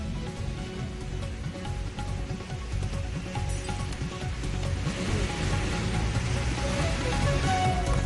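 Steady rain falling during a monsoon downpour, a constant hiss and patter that swells slightly toward the end, with no talk heard.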